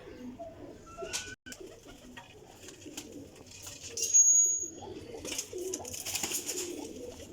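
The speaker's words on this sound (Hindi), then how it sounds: "हुण आ गए चपड़े कबूतर माशाल्लाह" Chapra pigeons, an old-breed variety, cooing softly in a loft, with repeated low coos and occasional sharper calls over a quiet background, and someone talking faintly at times.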